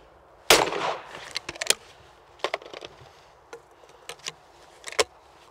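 Shotgun firing at a rabbit clay target on an outdoor clay course: one sharp, loud blast followed by several fainter cracks and clicks at intervals.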